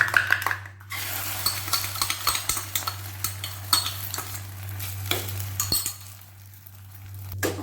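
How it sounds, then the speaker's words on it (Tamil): Beaten egg cooking in a hot oiled kadai as an omelette, a loud continuous sizzle with frequent metallic clinks and scrapes of a utensil, plus a steady low hum underneath. "இப்போ வந்து முட்டையை ஊற்றிக்கலாம்"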